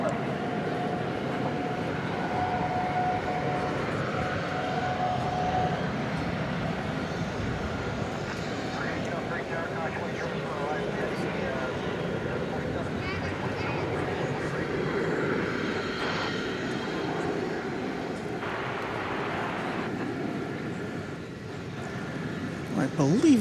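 A Qantas airliner takes off from DFW at night, bound for Melbourne, with a long sustained jet roar and rumble that stays steady, faint tonal whines coming and going and occasional talk over it.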